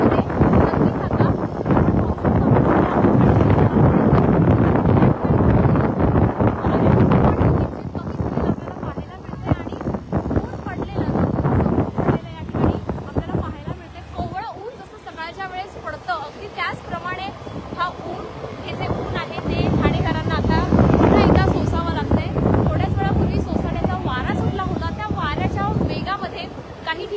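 Strong gusty wind sweeps through Thane, roaring and buffeting the microphone in loud, surging waves throughout while a person talks over it.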